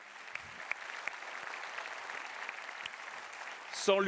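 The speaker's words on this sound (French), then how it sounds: "Merci d'applaudir Thierry Vatelet." Applause from a conference audience at an event opening, a moderate, even patter of clapping with scattered sharper claps, and a brief voice breaking in at the very end.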